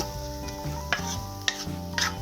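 Sliced onions sizzle steadily in a pan with a low hum underneath, broken by a few sharp scraping stirs of a spatula.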